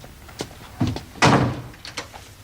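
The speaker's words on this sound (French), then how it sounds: "Et ferme la porte." A door is pushed shut with a solid thud after a few lighter knocks and rattles, close by and fairly loud, in a quiet interior.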